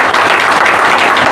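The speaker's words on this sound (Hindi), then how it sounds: "उसको ताली तो बजाओ।" Dense, sustained applause from an audience at a public address, steady and loud through the whole moment with no break.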